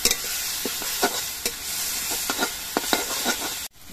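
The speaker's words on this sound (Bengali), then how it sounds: "আদা বাটাটা নেড়ে চেড়ে মিশিয়ে দিতে হবে।" Ginger paste being stirred into vegetables frying in a pan: a constant close sizzle broken by repeated scraping strokes of the spoon, with a short break right at the end.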